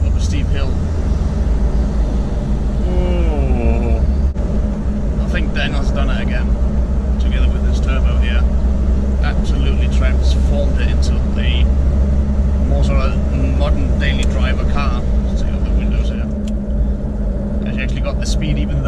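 A 20-year-old Land Rover Discovery 2 with a VNT turbo and stage 3 remap pulls hard in fourth gear up a steep hill, a steady loud engine drone under continuous excited talking inside the cab.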